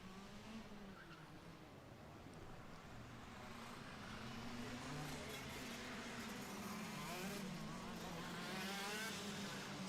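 KZ2 racing karts with roughly 50-horsepower engines rev together at a standing start, a dense, droning engine roar that builds in loudness, with faint voices underneath.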